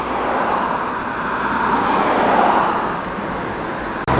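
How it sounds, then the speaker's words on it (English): An Opel Manta 1.8S Berlinetta coupe arriving at a classic car show, a steady engine and road rumble that swells as it draws near, then eases away, with no voices. "I think we have an Opel Manta signalling to come in now"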